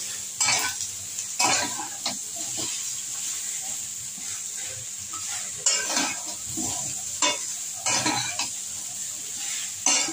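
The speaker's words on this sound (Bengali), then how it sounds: "এবার আমি এটা ভালো করে নাড়িয়ে নেব।" Fish head, potato and pumpkin greens stirred in a frying pan, a steady sizzle under repeated scraping strokes of a spatula against the metal, close and moderately loud, with no talking.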